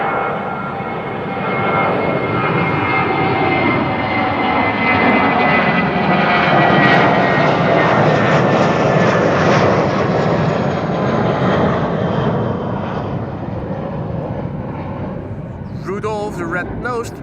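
A British Airways Airbus airliner roars past an airport, its engines loud and steady with a broad whine and rumble that swells and eases over about fifteen seconds, with a voice singing briefly near the end.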